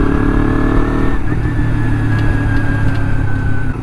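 Motorcycle engine held at a steady high rev under throttle, a loud continuous buzzing drone with a faint intermittent clicking under it, close to the microphone.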